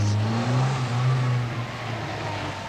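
A car on a slalom at an Irish autotest at Leopardstown Racecourse in 1983 sends out a loud engine drone that rises and falls with the revs, heard fairly near and fading a little toward the end.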